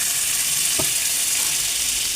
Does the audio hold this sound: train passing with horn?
no